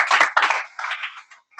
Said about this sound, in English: let's give Brenton Northcutt a big round of applause